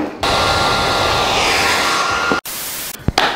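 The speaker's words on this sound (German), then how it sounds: "weil es halt einfach irgendwie nicht trocken wurde mit dem Föhn" A hair dryer blows loud, steady air at close range over freshly hydro-dipped AirPods, its rushing hiss cutting off briefly and then starting again with short bursts.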